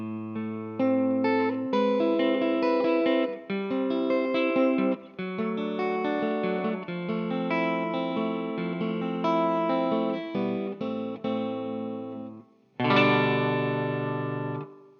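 Electric guitar plays the last four bars of a song through chorus and distortion effects, ringing chords and picked notes flowing together, closing with one louder bright strum, no talking.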